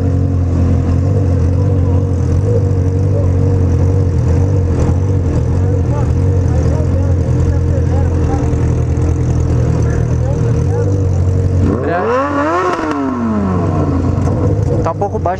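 A Honda Hornet motorcycle engine runs loud and close with a low throbbing idle, then revs sharply up and back down near the end, as voices talk over it.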